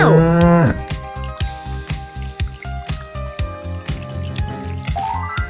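A cartoon cow in a preschool colors lesson gives one loud, close moo at the start, followed by a string of rhythmic dripping, squishy plops that keep going to the end.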